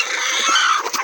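Hens on a small poultry farm cluck while they feed, a close, loud jumble of overlapping calls with a few sharper squawks near the end.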